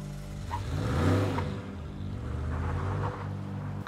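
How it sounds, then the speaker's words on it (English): A vehicle engine revs up and pulls away, the sound swelling then fading into a steady drone. "I waited until I heard the truck pull away before getting out of bed."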